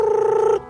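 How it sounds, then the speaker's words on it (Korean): A telephone rings in a dramatized suspicious call: one steady, fairly loud electronic ring tone lasting about half a second, then cutting off to near silence. "어느 날 그가 한국에 있는데 수상한 전화 한 통을 받습니다."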